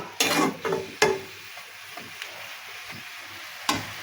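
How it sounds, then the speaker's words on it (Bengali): Bottle gourd frying in a pan is stirred with a few quick scraping clinks of a utensil over a soft, low sizzle. "একটু নাড়াচাড়া দিয়ে আমি জল ঢেলে দেব।"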